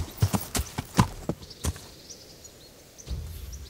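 Horse hooves clip-clop on the ground in the medieval video game Kingdom Come: Deliverance, several distinct close steps in an uneven rhythm that pause, then give way to a low rumble, with no talk.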